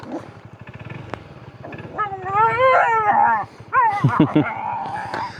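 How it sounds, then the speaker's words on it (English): Several dogs bark, yip and howl along a roadside, with a motorcycle engine idling or running underneath, loud close barks rising in bursts through the middle and end of the clip. "There's so many dogs along these roads."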